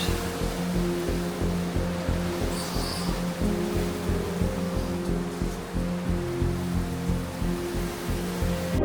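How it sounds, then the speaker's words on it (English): Strong wind roars and buffets steadily during a Southern California firestorm, a dense rushing noise with gusting surges and low rumbling throughout. "You guys can hear the wind."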